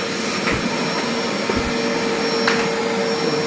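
Vacuum cleaner sucking dust out of an electric fan with the power cut, a steady loud whine running alone throughout with a few faint knocks.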